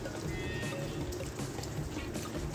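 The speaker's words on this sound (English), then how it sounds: "the sound you hear in the background is a waterfall that goes into our pond" A waterfall spills into a backyard pond below a balcony, making a faint, continuous splashing and trickling that stays low and steady throughout.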